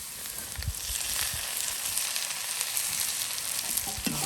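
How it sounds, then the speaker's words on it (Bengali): Shrimp sizzling and frying in a pan with softened, lightly browned onions, a steady close hiss with occasional crackles and faint stirring clinks throughout. "এখন হচ্ছে চিংড়ি মাছটা দিয়ে দিব।"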